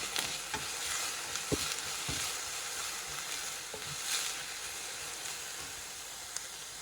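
Green chillies and curry leaves sautéing in hot oil in a pan, a steady close sizzle with occasional scraping strokes of a spatula, no voices.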